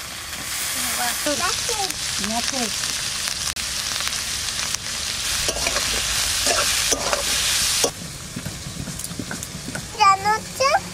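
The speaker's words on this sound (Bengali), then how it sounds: "ফুলকপি রান্না হচ্ছে বাবা" Cauliflower sizzling and being stirred in a frying pan in a home kitchen, a steady hiss with scraping and clattering of the utensil, while a child and an adult talk over it.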